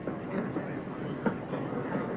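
A train rumbles with a steady low roll and faint rhythmic wheel clicks, plus occasional metallic knocks, in a continuous nearby din.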